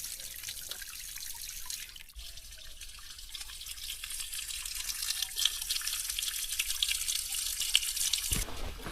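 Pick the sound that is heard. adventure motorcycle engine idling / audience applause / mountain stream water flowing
mountain stream water flowing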